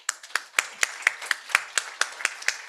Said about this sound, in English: Let me thank my excellent panelists with another warm applause